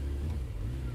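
Motorcycle engine droning steadily during a ride back to Boa Esperança, a continuous low rumble with wind, loud and close throughout the short moment, no talking.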